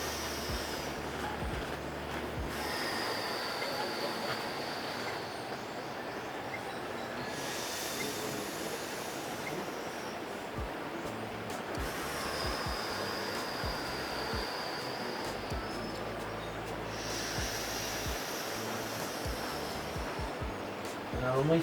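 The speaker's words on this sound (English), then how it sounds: "full inhale, full exhale" Slow, full inhales and exhales in a lung-capacity breathing exercise, heard as long, airy swells that rise and fade every few seconds over a steady background hiss.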